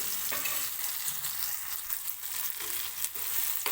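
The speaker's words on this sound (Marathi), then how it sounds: "आणखी एक दोन मिनटं मी व्यवस्थित टोमॅटो असाच तेलामध्ये परतून घेणार आहे" Tomatoes sautéing in oil in a pan for chutney give a steady, dense sizzle throughout, close and even, with a few faint stirring scrapes and no talking.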